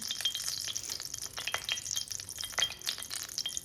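Steady, crackling sizzle of cumin, coriander and other dry spices frying in hot oil in a kadai, close up, with a few faint clinks and stirring sounds and no talking.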